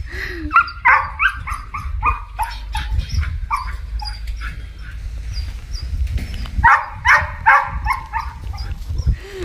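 A dog barks and yelps repeatedly in excited bursts, close by, with some whimpering between the barks.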